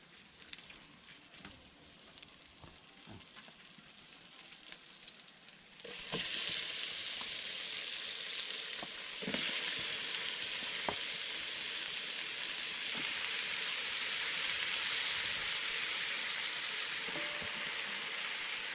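Chicken adobo fries in a home kitchen pan, starting as a quieter sizzle that jumps to a loud, steady frying hiss partway through, with occasional scrapes and clicks of stirring throughout and no talking.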